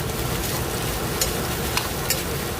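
Shrimp and vegetables frying in a pan, a steady, loud crackling sizzle throughout with small pops and a few sharper spits.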